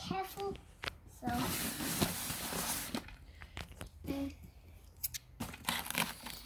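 Scissors snip and slice through packaging on a toy remote control excavator in a series of sharp cuts and rustles, with a person talking quietly in between.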